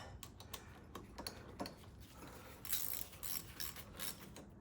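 A ratchet tightening a small 10mm bolt on a car's power steering pump, a series of quick clicking bursts of varying length in an engine bay, close and moderately loud.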